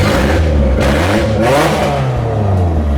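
A rebuilt KA24E engine in a Nissan 240SX idles steadily up close, its low hum rising and falling slightly as the revs shift, with no voices.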